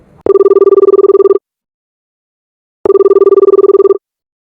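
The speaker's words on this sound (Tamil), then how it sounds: "ஓகே மீரா, இதோ கால் பண்றேன்" A telephone rings in two loud, clear bursts of a steady warbling electronic tone, each lasting about a second, separated by a silent pause, heard close and alone while a call is being placed.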